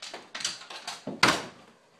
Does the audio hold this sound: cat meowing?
no